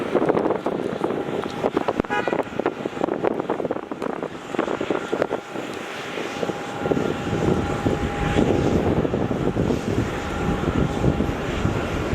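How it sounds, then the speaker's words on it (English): A Jetstar airliner takes off from the runway at Melbourne Airport, its engine roar broad and steady, swelling with a tonal whine and gusty wind noise on the microphone across the whole stretch. "JetStar speeds off the runway."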